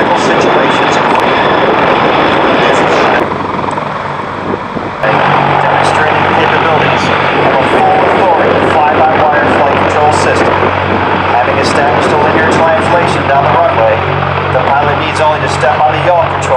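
A loud, close CH-53K heavy-lift helicopter flying a demonstration at an air show drones steadily with rotor chop throughout, briefly easing as it decelerates before returning to full strength.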